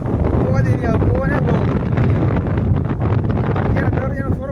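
Strong wind roars across a village seashore with big waves, buffeting the microphone in a steady, loud rush from start to end while a voice talks faintly beneath it.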